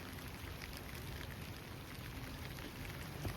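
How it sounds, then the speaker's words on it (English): Steady rain falls on a vegetable garden with onion and zucchini beds, a continuous broadband hiss of drops hitting surfaces at a constant, moderate level with no talking. "Okay, it's raining."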